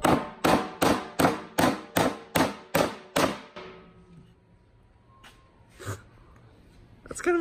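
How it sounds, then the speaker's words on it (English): About nine loud, evenly spaced blows from a hammer repaired with Flex Tape drive a nail close by, followed by quiet with a few faint knocks. "Nail it in like you would a normal nail."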